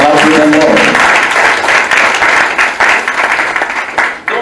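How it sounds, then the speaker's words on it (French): A graduation audience breaks into loud, dense clapping that swells steadily and then tapers off, with voices mixed faintly underneath. "And I give a clap to the Lord."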